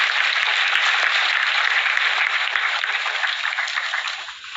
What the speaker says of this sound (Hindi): जोरदार तालियों के बीच स्वागत है।